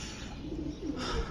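Homing pigeons perched up high give a soft, low cooing call, near and gentle against a steady outdoor background hum.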